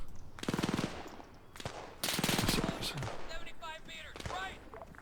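Automatic and single-shot gunfire from WW2-era weapons in the Arma 3 combat game crackles in sharp bursts, a long rattling volley first, then more shots, with someone talking over the firing.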